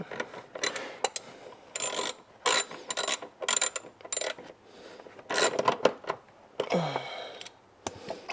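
A ratchet tightens fasteners in the trunk of a 1000 HP BMW M5, in close, repeated bursts of rapid clicking separated by short pauses.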